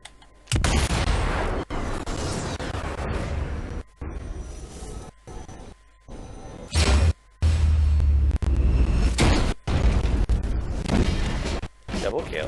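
Heavy booming sniper rifle shots in the World War II stealth shooter Sniper Elite 4, several loud reports with rumbling tails broken by brief silences across the stretch.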